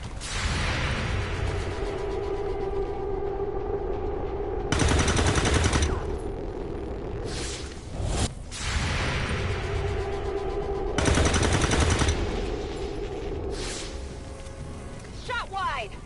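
Overwatch gunfire in the video game XCOM 2 comes as two bursts of loud automatic fire several seconds apart over a steady background hum, with a voice speaking in between.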